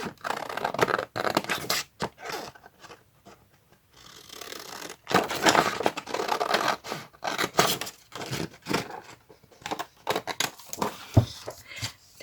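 Scissors snip and scrape through paper while cutting out a shape for a Halloween tracing-paper bag craft, making close, irregular bursts of crisp cutting sounds with short pauses between.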